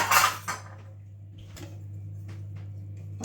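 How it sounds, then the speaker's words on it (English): A spoon clinks and scrapes against a tin of corned beef, making a couple of quick metallic taps at the start, then quieter scraping over a low steady hum, with no talking. "Decide where you're going to take your portion from and just cut through it to give the spoon a fighting chance."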